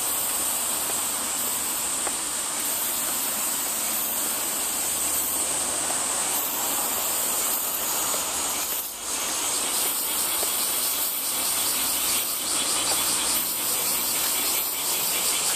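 Cicadas buzz near a temple, a loud, steady, high-pitched drone that runs unbroken and close throughout, with no voices over it.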